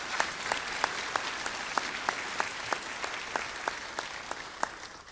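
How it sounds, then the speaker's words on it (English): An audience at an employee of the year ceremony applauds steadily, with even, sustained clapping from a crowd heard at a moderate distance. "Can we give them a round of applause as well?"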